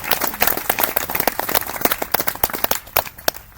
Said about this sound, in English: And so we should give a great big round of applause to our president, Joe Biden.